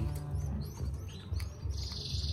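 Newly hatched canary chicks chirp in a nest, a thin, continuous cluster of high peeping cheeps close by, with a low steady hum underneath.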